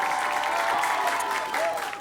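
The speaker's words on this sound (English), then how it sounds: "Big round of applause for both schools." An audience at a school quiz competition claps in a brief, steady burst of applause, fairly close and filling the whole moment.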